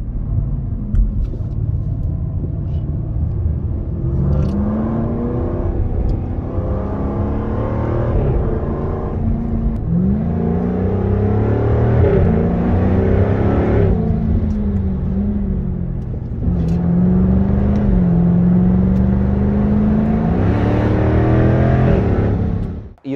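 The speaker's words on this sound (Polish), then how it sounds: "Dźwięk kompresora, dźwięk układu wydechowego, to wszystko robi taką dużą całość w sobie." A Jaguar F-Type R 75 with its supercharged 5.0 V8 pulls hard through repeated accelerations, the engine note rising and dropping through gear changes with a deep, loud exhaust roar and a supercharger whine, close and sustained throughout.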